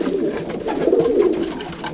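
Homing racing pigeons coo steadily in a loft, a soft continuous rolling murmur of several birds close by, with no talking.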